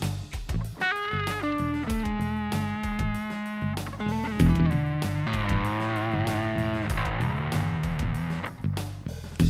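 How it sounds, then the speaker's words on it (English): Harley Benton ST62 electric guitar played through heavy distortion, loud sustained chords and bent notes ringing continuously with a few sharp picked attacks, no talking. "I'm gonna put up the distortion"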